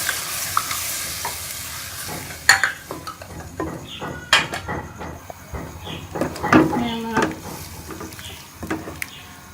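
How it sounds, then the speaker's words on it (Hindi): Fried spice masala for masala bhindi sizzling in a pan while a spoon stirs and knocks against the metal in irregular clatters and scrapes, close and lively, with no one speaking. "ये सारे मसाले डाल के इसको अच्छी तरह से भून लेंगे।"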